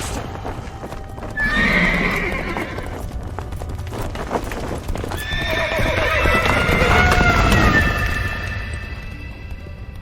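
Horse hooves clatter in a gallop with loud whinnies and neighs, set in a tense chase scene of a radio drama, with rumbling background and near, urgent movement throughout.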